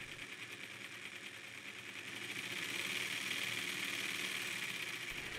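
A jigsaw motor running at reduced speed through an auto transformer, giving a steady, buzzing whir that holds for several seconds and swells slightly midway, close and quiet with no talking.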